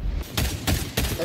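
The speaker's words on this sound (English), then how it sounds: "All right, so this is a marksman rifle." Three loud, evenly spaced marksman rifle shots from the shooter game XDefiant, each a sharp crack with a short decaying tail, spaced about a third of a second apart, with no talk over them.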